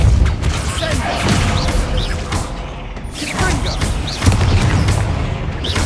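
Spell explosions in the Hogwarts Legacy video game, repeated booming blasts and crashes with a dense, loud, continuous combat din throughout, shouted spell incantations over the top.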